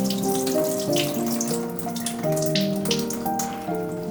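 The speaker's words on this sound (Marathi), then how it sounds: "आता आपण हे पाणी काढून घेणार आहोत" Soaking water being poured off rice for a vegetable pulao, a continuous splashing trickle running steadily at close range while vegetables fry nearby, with tonal clinks over the flow and no talking.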